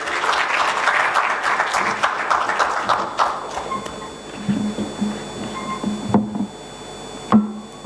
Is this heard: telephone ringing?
no